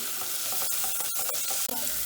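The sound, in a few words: coxinha filling frying in a teflon pan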